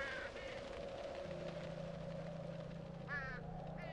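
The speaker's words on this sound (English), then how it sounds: "There's a bunch of crows." Crows cawing in the horror video game Here They Lie, a few harsh calls rising over a steady low drone and hum of the game's ambience, moderately loud.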